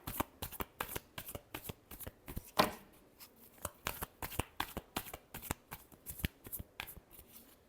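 Tarot cards being shuffled close up, a steady run of crisp riffling flicks and soft slaps repeating evenly, with one louder snap partway through and no voices.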